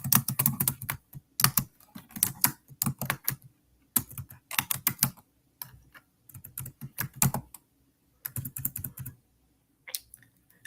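Computer keyboard keys clatter in quick bursts of typing with short pauses between, close and fairly loud, during design work on a coloring printable, with no talking.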